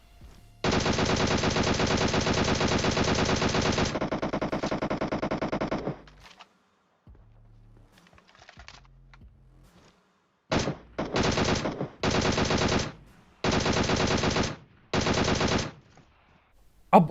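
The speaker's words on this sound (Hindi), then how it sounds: "गोली तो ये वैसे भी चला ही रहे थे अभी भी" Bursts of automatic gunfire from the PUBG Mobile shooter game: a long sustained stream of rapid shots, a pause with faint sounds, then several short repeated bursts, loud and close with no talk.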